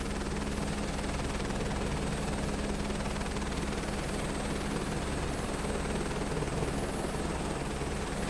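A helicopter in Microsoft Flight Simulator 2024 cruising at about 140 knots, with a steady, loud, unbroken rotor and engine drone and no talking.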